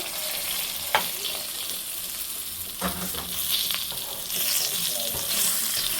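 Shorputi fish frying in oil, a steady close hiss of sizzling with occasional faint clicks and bumps from turning the pieces.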